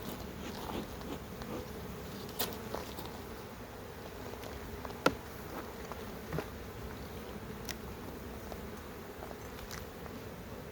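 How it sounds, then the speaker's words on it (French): Wasps buzzing around a beehive during late-summer hive work, a low steady insect hum throughout with faint scattered clicks and no speech. "Non, les guêpes sont indésirables ici."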